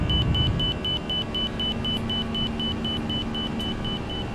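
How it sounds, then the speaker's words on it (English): Marker beacon tone from an Airbus A320 in the X-Plane 11 flight simulator: a steady train of short, evenly spaced high beeps repeating throughout over a constant low cockpit engine rumble. "there's that wonderful X-plane inner marker, outer marker sound"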